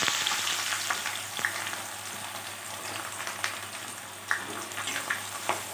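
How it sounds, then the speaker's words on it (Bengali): Chopped onion fries in hot oil for a chicken dish, giving a continuous soft sizzle with scattered light crackles and a few faint utensil taps. "আমি এই কুচনো পেঁয়াজটা আমি প্রথমে তেলের মধ্যে দিয়ে দেবো।"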